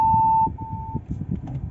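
A 2021 Tata Nexon XZ+ parking sensor sounds a steady tone warning of a banner just behind the car, then breaks into a short stutter before going quiet over low cabin rumble.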